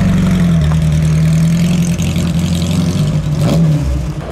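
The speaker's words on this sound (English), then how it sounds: "Nice to hear a Porsche." A classic Porsche engine revs at the Mille Miglia road race, a loud, steady low drone that swells and dips close by, with a brief rev blip near the end and no talk.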